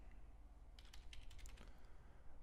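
Quiet clatter of typing on a computer keyboard, a short burst of rapid key taps in the middle of the clip, faint and alone over low background hum.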